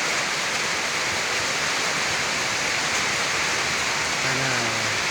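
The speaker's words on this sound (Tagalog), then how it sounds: "Ito na ulan." Steady rain pours down as a dense, even hiss that carries on without a break, with a faint low tone surfacing briefly near the end.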